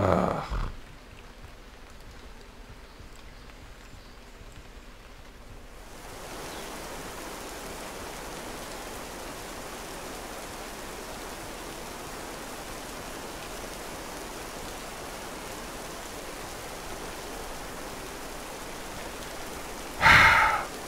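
Rain in the video game This Land Is My Land begins after a few seconds of near quiet and then holds as a steady, even wash of noise for the rest of the clip.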